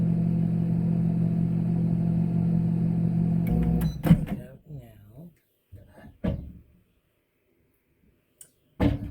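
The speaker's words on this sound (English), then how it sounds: "I'm probably going to have to put this back in the microwave" A microwave hums steadily for a few seconds, then stops with a click, followed by quiet handling clatter and a door sound.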